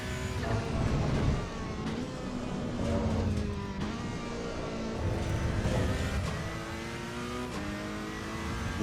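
Race car engines in Assetto Corsa Evo scream and rev continuously, pitch climbing and dropping through gear changes as several cars run close together, loud and steady with no talking.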